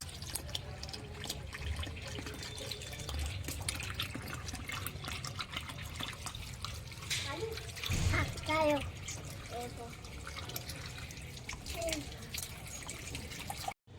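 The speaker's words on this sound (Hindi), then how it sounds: "आज आप सबसे पहले आप प्लांट में पानी डालो" Water is poured onto plants in a home kitchen garden, a steady wet splashing and trickling with a few brief drips, while people talk throughout.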